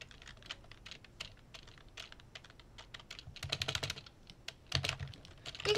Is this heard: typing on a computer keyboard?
yes